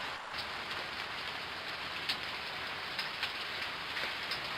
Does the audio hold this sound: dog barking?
no